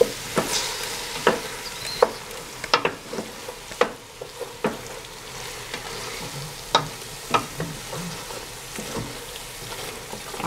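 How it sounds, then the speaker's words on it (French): Stirring tomato purée into a couscous sauce, with close spoon scrapes and soft knocks against the pot over a steady sizzling simmer, repeated in irregular strokes. "Mélanger et rajouter après de la purée de tomate"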